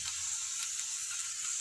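A masala chapati pressed down on a hot pan after being flipped sizzles with a soft, even, continuous hiss close by, with no other sounds.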